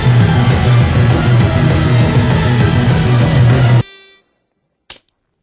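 Route background music from the Pokemon Ultra Sun and Ultra Moon video game plays loud and full for about four seconds, then cuts off abruptly, leaving a brief fading tail and one short click.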